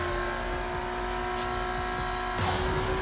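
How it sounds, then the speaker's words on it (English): A Lamborghini Aventador drifts in the racing game Need for Speed No Limits, with a steady engine whine and sustained tire squeal that shifts pitch sharply near the end. "I just got a little bit of a drift."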